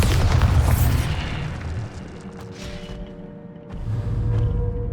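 A Bombarda spell detonates in Hogwarts Legacy as a heavy, close boom, then fades into a lower rumble with faint tonal game sounds, before the rumble swells again near the end.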